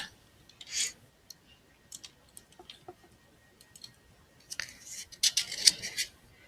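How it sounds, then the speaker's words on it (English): A few sharp key presses on a computer keyboard, including the Delete key, tapped near and fairly quietly as short clicks spread across a mostly silent stretch, with a denser cluster of clicks toward the end. "I'm just hitting the Delete key on my keyboard"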